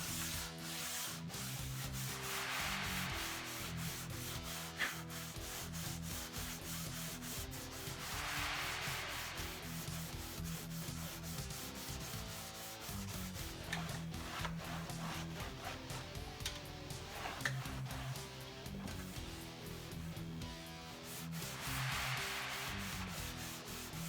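Hand sanding the wooden body of a homemade electric guitar, rhythmic back-and-forth rasping strokes in repeated bursts, close and fairly quiet, with no talk.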